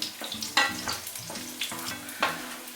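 Garlic sizzles in olive oil in a pan over medium heat, with soft crackling bursts and stirring scrapes in the foreground, close and alone without any voice.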